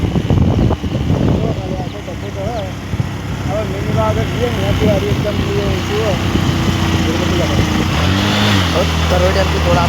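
A motorcycle carrying three riders hums steadily as it rolls downhill on a sloping road near a dam. The engine drone stays close and continuous, and someone talks over it throughout.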